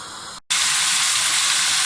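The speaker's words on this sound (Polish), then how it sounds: "ten boczek, tą cebulę musimy sobie teraz tutaj wysmażyć na patelni" A loud, steady frying sizzle of bacon and onion in a pan fills the space, briefly cut by a short silence before resuming with a dense hiss.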